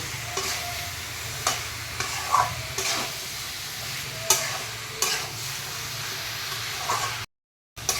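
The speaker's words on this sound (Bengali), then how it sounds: "এরকম করে ভালো খানিকটা টাইম ভাজব" Jackfruit pieces for echor kalia fry in a pan with a steady sizzle, punctuated by repeated scraping stirs of a spatula, close and fairly loud, cutting out briefly near the end.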